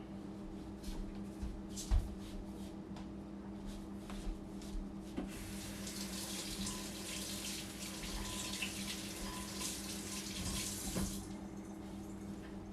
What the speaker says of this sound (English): I'll rinse that in a moment.